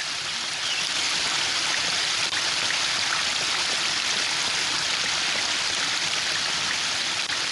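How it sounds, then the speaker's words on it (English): A spring-fed brook flows across an elven palace ground in Book of Unwritten Tales 2, a dense, steady rush of water heard alone without a break. "The spring brook emerges up there."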